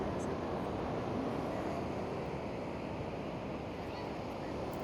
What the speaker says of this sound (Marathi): तुम्हाला अगोदर आवाज ऐकवते समुद्राचा